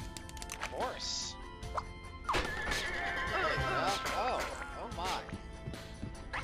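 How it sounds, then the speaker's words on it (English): A horse neighs repeatedly in the video game Scribblenauts Unlimited, whinnies rising and falling amid hoof clops and game effects, with talking heard around them. "Horse."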